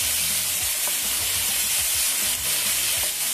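Chopped onion, about half an onion, hits a hot pan while cooking Peruvian lomo saltado, giving a loud, steady broadband sizzle with soft scraping stirs underneath throughout.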